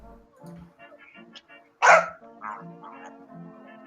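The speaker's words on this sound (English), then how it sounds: "Who's got the dog?" A dog barks during an open house gathering: one loud, sharp bark rises out of a quieter background of murmured voices, followed by softer yips and whimpering sounds nearby.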